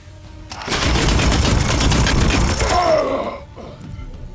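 A sniper rifle fires in the Chaos Gate Daemonhunter game, a loud sustained blast of rattling gunfire and mechanical clatter lasting a few seconds before dropping away to quiet.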